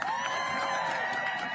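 A crowd cheering for USAID workers, a sustained, dense roar of voices and whoops held at an even level for the whole moment, with no distinct speech standing out.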